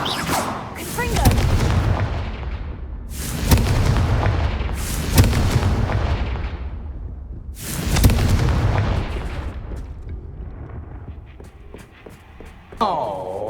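Confringo blasting spell going off in Hogwarts Legacy: four loud booming explosions at irregular intervals, each rolling off into a long decaying rumble, followed by a quieter stretch and a short sharp burst at the end.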